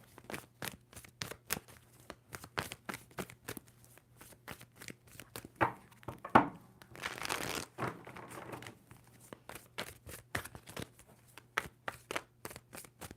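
A tarot card deck is shuffled by hand in a quiet room, with a series of soft, close card flicks and taps, a denser riffling burst in the middle, then more scattered slaps.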